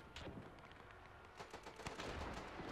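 Gunfire from troops in a WW1 battle game, a dense crackle of rifle and machine-gun shots, some near and sharp, others distant, running continuously without talk.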